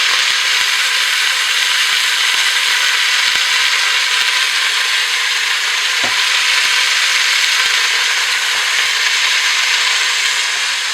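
Beef barbacoa frying in olive oil just after being flipped, a loud, continuous crackling sizzle with small pops scattered throughout, close up and steady from start to finish.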